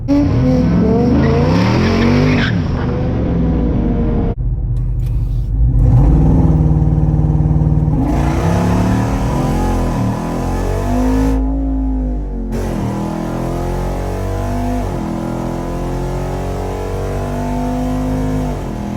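A Jeep Wrangler Rubicon 392 on oversized tires roars loudly down a drag strip, its engine revving hard and surging through gear changes, with tire squeal and a brief drop in the middle before the sustained run continues.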